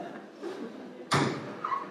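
A door slams once with a sharp, loud impact in a sitcom scene, following a stretch of low room murmur and ending in a short, fading rattle.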